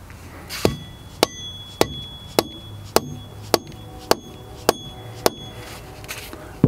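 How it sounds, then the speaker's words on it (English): A soft-faced hammer taps the anvil area of a rock drill shank adaptor or striking bar about ten times in an even, unhurried rhythm, each blow a sharp, close knock with brief ringing between. "it's okay to use a soft-faced hammer and to tap in the anvil area"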